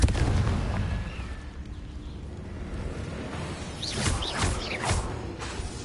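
Blasting-spell explosions in a wizard video game, a rumbling boom followed by several sharp bursts and whooshes toward the end, moderately loud and with no talking.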